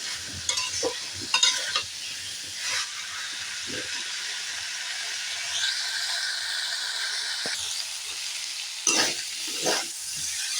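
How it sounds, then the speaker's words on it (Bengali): Peanuts frying in oil in a pan as they are stirred, with a constant hiss and sizzle and occasional clacking scrapes of the spoon, heard up close without speech. "বাদাম ভাজা হয়ে গেছে"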